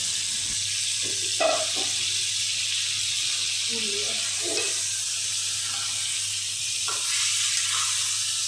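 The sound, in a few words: spiced wash water poured into frying duck curry, sizzling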